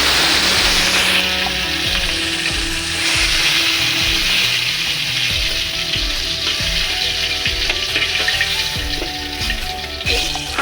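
Potatoes frying in hot oil in a pan for a riitha fish curry, a loud continuous sizzle with scraping stirs and clinks of a spatula throughout.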